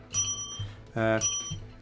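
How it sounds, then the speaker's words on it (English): A new bicycle-style bell with a different tone rings in two bright bursts, near and fairly loud, against low background hum. "Oh, we've got a new bell"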